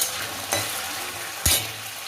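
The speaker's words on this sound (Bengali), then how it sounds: "এই আলুটা ভেজে নিচ্ছি দেখুন বন্ধুরা" Potato pieces frying in oil in a pan for a home paneer curry, a constant close hiss of sizzling broken by two louder scraping stirs with the spatula.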